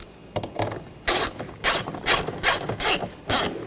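A ratchet wrench snugging down the screws on a replacement side mirror of a 2014-2020 Nissan Rogue, with bursts of quick, loud clicking in several short runs, close up, with no talk.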